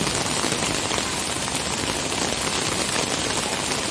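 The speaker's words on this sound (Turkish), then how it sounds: "Yağmur nedeniyle cadde ve sokaklarda su birikintisi oluştu." Heavy downpour pelting city streets and pavements, a dense, steady hiss of rain on hard surfaces that stays loud and even throughout, with no voices.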